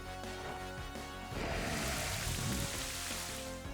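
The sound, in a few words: rain from Rain Dance move in Pokémon video game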